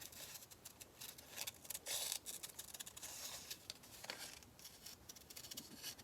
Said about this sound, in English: Let me fussy cut this quick.